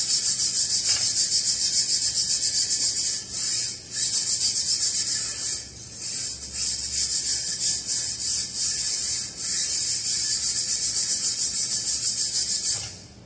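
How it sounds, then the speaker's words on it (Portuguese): Metal-bristle brushes scrubbing the bottom of a tilted test sieve in a particle-size analysis lab, giving a harsh, continuous scratchy rubbing close up, with a few short breaks. "onde nós podemos esfregar aqui no fundo da peneira"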